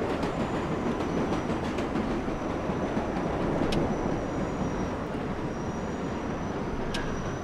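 A subway train in the World of Subways 4 video game rolls and brakes with a continuous rumbling roar, faint clicks of the wheels and a thin high squeal of the brakes running through it.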